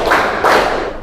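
A group of people claps twice in unison, two close, loud, broad claps about half a second apart.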